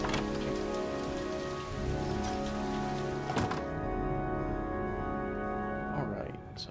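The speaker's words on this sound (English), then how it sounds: "Okay, we can stand here in the rain a little more" Steady, dense rain pouring in a video game, a constant hiss with a continuous tonal music bed beneath it and a few faint knocks, loud and unbroken throughout.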